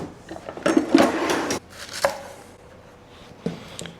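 A knife chops leeks on a cutting board for a tray bake, giving a quick run of close, crisp chops followed by a few slower, scattered cuts.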